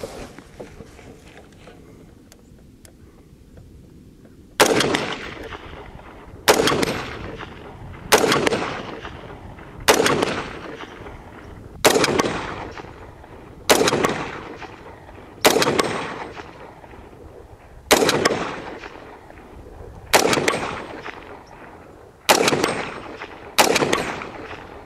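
An AR rifle fires a magazine of rounds: about ten loud, sharp shots at fairly steady intervals, each with a ringing decay, after a few seconds of quiet background.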